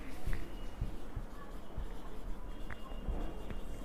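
A pen or marker scratches out a maths answer on a board during a primary-school lesson, with soft, irregular, close strokes and small taps over faint room noise.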